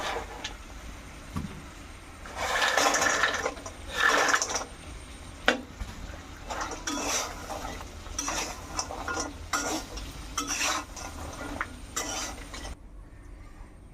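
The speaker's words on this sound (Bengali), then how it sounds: "এখন খুরমাগুলো ঢেলে দিয়ে ভালোভাবে মিক্স করে নেব।" Fried khurma snacks are stirred into sugar syrup in a pot, giving scraping, clinking and rustling that swells and fades in uneven bursts, close by, with no talking.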